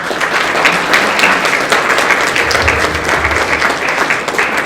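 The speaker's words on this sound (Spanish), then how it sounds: "Entonces damos un aplauso a Francisco García Salinas" Audience at a writers' panel during a building-floor inauguration applauds steadily, a dense sustained wash of clapping from many hands filling the room at full strength throughout.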